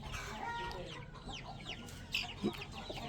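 Hens clucking in short, scattered bursts over a busy background murmur, with a couple of sharper calls near the end.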